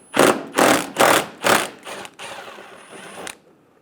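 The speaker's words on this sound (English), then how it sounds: "On the top, you're going to find a 10mm bolt." Mechanical ratcheting as a 10mm bolt is backed out of the top of a 2005-2015 Toyota Tacoma front bumper: five loud, evenly spaced bursts of clicking, then a quieter steady run of ratchet clicks, close up with no speech.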